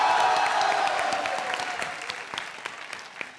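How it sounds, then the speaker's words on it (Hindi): Loud applause from a TV dance show studio audience after a romantic dance act, dense clapping that starts strong and gradually thins out with scattered claps toward the end. "जोरदार तालियां"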